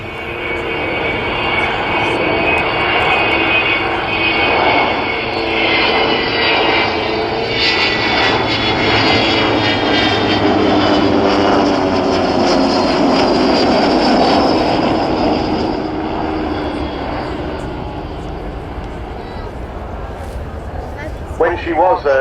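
Avro Vulcan bomber jet engines roar at the RAF Cosford Airshow in 2013, a loud sustained rumble that swells as the power rises and then eases, with an announcer talking over it.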